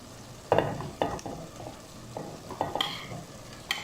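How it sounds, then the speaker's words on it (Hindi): Pre-fried okra goes into a tomato gravy and gets stirred, giving soft scraping and clanking strokes over a low, steady sizzle in the pan. "अब मैं इसमें ऐड करूँगी भिंडी, जिसको हमने पहले से ही फ्राई कर लिया हुआ था।"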